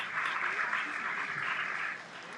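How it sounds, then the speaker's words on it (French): Brief, fairly faint audience applause rises at a ministerial ceremony in Haiti, a steady wash of clapping that holds for about two seconds and then tapers off. "Un applaudissement pour mes prédécesseurs"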